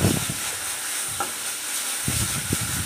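Spice paste for mutton kalia being stirred and fried in a pan, with a steady background sizzle broken by scraping stirring strokes near the start and again toward the end.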